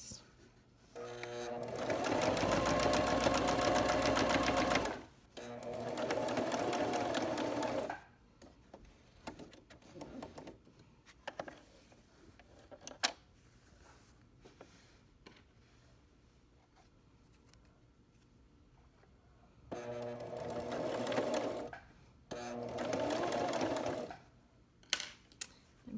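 A sewing machine runs in bursts along the edge and around a corner of a reversible fabric napkin, with long whirring stretches separated by quiet pauses filled with small handling clicks and rustles.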